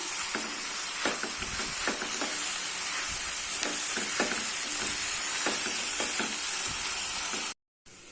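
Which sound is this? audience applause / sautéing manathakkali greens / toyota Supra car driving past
sautéing manathakkali greens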